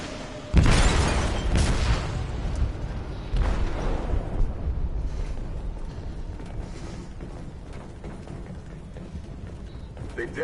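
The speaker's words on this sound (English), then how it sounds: "They detonated an explosive in the hold." An explosive goes off in a ship's hold in a video game: a close, heavy blast rings out, then further dull booms and clattering rumbles follow and slowly die away into a low, lingering murmur.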